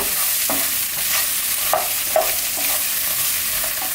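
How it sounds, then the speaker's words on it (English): Shrimp fry with golden garlic in a pan, giving a continuous sizzle broken by several scraping stirs and clinks of a utensil, close and fairly loud, with no speech. "after our garlic is slightly golden, we're going to add in our shrimp"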